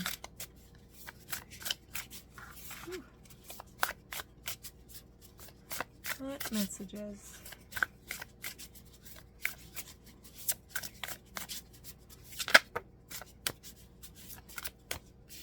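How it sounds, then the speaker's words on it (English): Brisk card shuffling rustles in short bursts, with a few sharp snaps and riffles, while a person talks briefly over it. "Do one more shuffle."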